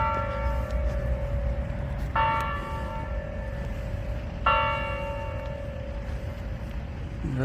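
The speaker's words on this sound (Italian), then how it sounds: "all'Arco di Trionfo c'è una campana che suona" A bell at the Triumphal Arch in Chisinau, Moldavia, rings three spaced strikes, each clear tone ringing on and fading over steady outdoor city noise.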